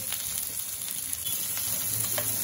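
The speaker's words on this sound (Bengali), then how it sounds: "এখন এগুলোকে ভালোভাবে নেড়ে ছেড়ে ফ্রাই করে নিব।" Chopped onions with garlic and ginger frying in a pan for chicken momo, giving a steady, close, even sizzle throughout with occasional faint crackles.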